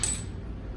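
A small punched-out steel slug drops from a Harbor Freight hydraulic punch and lands with a single bright metallic clink and a short ring, close and clear.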